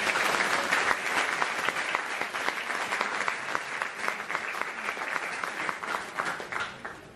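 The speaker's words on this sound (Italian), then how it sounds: "Un applauso per te, qui." Audience applause at the 40th anniversary event of the Padre Luigi Tezza school, a dense steady round of clapping from a crowd that holds at an even level throughout.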